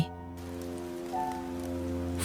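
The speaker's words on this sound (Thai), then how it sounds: "ฝนเริ่มตกหนักขึ้นเรื่อย ๆ เม็ดฝนกระทบหลังคาไม้เก่า" Continuous heavy rain drumming on an old wooden roof, a dense, even patter with a faint low hum underneath.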